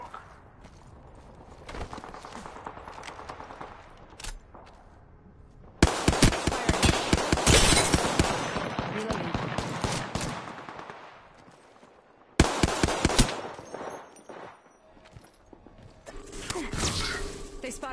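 Apex Legends firefight with rapid automatic bursts and single shots, loud clustered volleys around six to ten seconds and again near thirteen seconds, quieter between, while a player voice speaks over the action.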